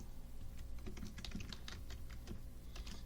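Rapid, close key clicks on a computer keyboard, an uneven run of light taps over a low steady room hum, with no talking.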